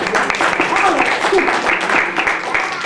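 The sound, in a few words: round of applause for the children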